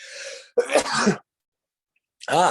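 A few close, abrupt bursts, a sharp sneeze-like outburst followed by a short pause and another forceful expulsion, in a quiet room.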